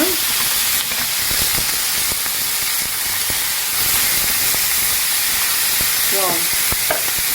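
A smash burger patty sizzles on a hot griddle as it is flipped, a steady loud hiss of frying fat with scattered scrapes and taps of the spatula running throughout.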